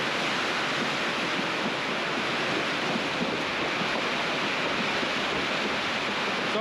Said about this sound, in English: Wow, that's a heavy rain.